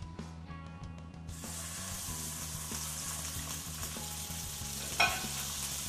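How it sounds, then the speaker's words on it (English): Beef hitting peanut oil in a really hot pan bursts into a loud, steady sizzle after a quieter start, with a brief clatter near the end and no talking. "Don't forget to use a really hot pan when you're sealing and seal all over the meat."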